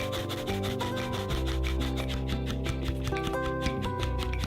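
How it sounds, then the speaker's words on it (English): All-purpose flour being sieved into chocolate cake batter: rapid, rhythmic, scratchy rubbing strokes, close and steady, over background music. "Sieve the all-purpose flour into the batter and mix until well combined."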